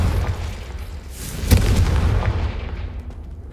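The Confringo spell blast in Hogwarts Legacy lands as a loud, close boom with a sharp crack at its peak, over a low rumbling background that trails off gradually.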